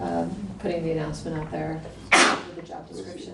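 A single sharp sneeze bursts out in the middle of a live-stream meeting, loud and close, with people talking about a job posting before and after it.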